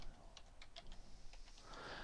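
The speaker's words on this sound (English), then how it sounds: "So if I just type in some information here" Light typing on a computer keyboard while entering information into a WordPress editor, a quick run of soft, close keystroke clicks over a faint steady background hiss.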